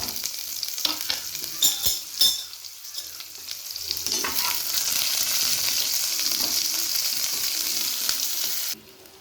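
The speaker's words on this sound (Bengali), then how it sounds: "তেলটা গরম হয়ে গেছে, একটু আমি পাঁচফোড়ন দিয়ে দিলাম, তারপরে পেঁয়াজ কুচিগুলো দিয়ে দিলাম" Chopped onions and panch phoron sizzle steadily in hot oil, with a few sharp stirring scrapes early on, before the frying hiss cuts off abruptly near the end.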